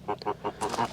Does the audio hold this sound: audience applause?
no